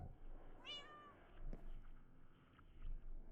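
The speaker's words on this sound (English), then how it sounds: "What are you meowing at?" A single drawn-out meow from a cat, fairly faint and heard over quiet room noise during a Minecraft session, followed by a few soft clicks and bumps.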